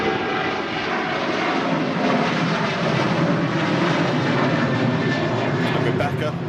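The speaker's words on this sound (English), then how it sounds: "that's the 380 departing" An Airbus A380 departing, a loud continuous jet roar with a rich whining tone that holds steady, while people talk over it.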